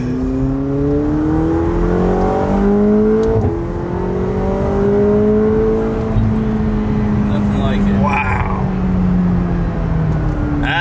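A McLaren sports car accelerates hard through a sharp corner, its engine note climbing and shifting in loud rising sweeps from inside the cabin, with excited voices talking over it.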